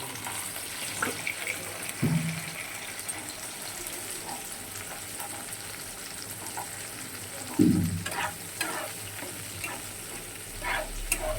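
Cumin seeds sizzling in a little oil before paneer goes in. A faint, steady frying hiss runs underneath, with a few sharper clinks and scrapes from stirring.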